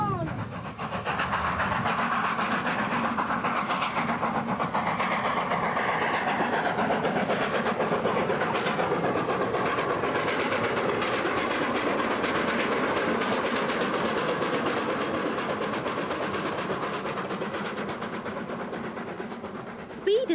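A train runs along the tracks, heard from inside with a continuous loud rumble and rhythmic clatter of the wheels that holds steady, then eases near the end.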